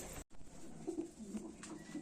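A green Madras pigeon in a loft gives soft, low cooing calls, a few repeated coos close by in a quiet setting.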